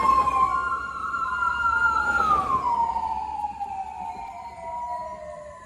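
Sirens of an ambulance and police vehicles rushing past a road accident scene, a loud wailing tone that rises, bends downward as it passes and fades into the distance, with no talk.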